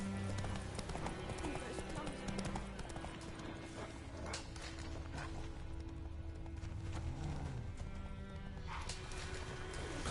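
A horse galloping in The Witcher 3: Wild Hunt, rapid rhythmic hoofbeats with a neigh, under game music and a voice.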